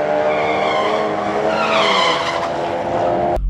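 Audi RS3 doing a front-wheel-drive burnout, its front tires spinning and squealing in a loud, continuous shriek over the engine's drone for several seconds before the sound cuts off abruptly.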